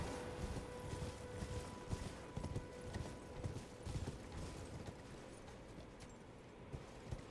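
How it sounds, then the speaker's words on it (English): A horse gallops in Elden Ring, its hooves striking in a quick, steady clip-clop rhythm that is close and fairly quiet, with no talking over it. "Let's get on the horse."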